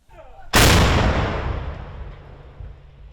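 A single loud artillery blast near Bakhmut booms suddenly after a brief quiet moment, then rolls and echoes away slowly over several seconds.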